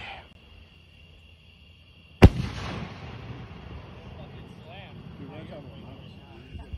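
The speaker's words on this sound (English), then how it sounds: "Got a couple rockets." Consumer firework rockets at a backyard pre-Labor Day burn: one sharp, loud launch crack, then a trailing hiss and distant crackle, with a faint tone droning in the background.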